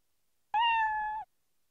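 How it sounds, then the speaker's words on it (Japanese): A black cat in the video game Amagami gives a single clear meow of about two-thirds of a second, close and loud against silence. "黒猫かわいいよね。"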